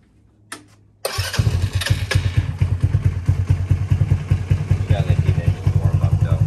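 A go-kart engine with new bearings and carburetor is started after a brief click and settles into a loud, close, rhythmic chugging idle that continues to the end.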